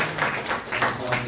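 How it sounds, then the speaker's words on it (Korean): Church congregation applauding at a New Year's Eve service, a steady wash of many hands clapping for just over a second, fairly close and continuous. "우리 하나님께 감사의 박수 한번 칩시다."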